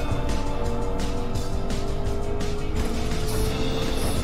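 A truck drives in the video game Fortnite, a loud, steady engine drone with rising mechanical whine, no talk.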